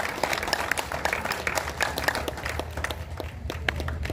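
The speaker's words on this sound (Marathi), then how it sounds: "सगळ्यांनी टाळ्या वाजवून त्यांचं स्वागत करूया" Scattered, fairly faint clapping from a modest crowd welcoming a guest at a Mahatma Basaveshwar birth-anniversary program, individual claps standing out irregularly over a low background hum.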